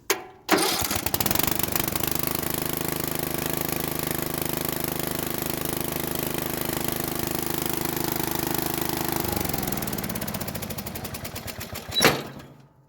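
A Bolens riding mower engine, revived after sitting abandoned, runs loud and close with a steady rough chugging drone, shifts pitch near the end, then cuts off with a final burst.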